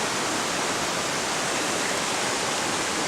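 River water flows steadily through a forest, a dense, even rushing wash that fills the whole stretch without pause, close and loud.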